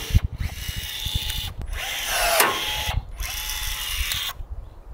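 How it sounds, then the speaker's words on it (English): A hand rivet tool sets rivets through aluminum pieces on the rot-proof subfloor of a vintage Airstream trailer. Sharp mechanical clicks and grinding bursts repeat several times, close and fairly loud, separated by brief pauses. "First, we have to rivet some aluminum pieces back on."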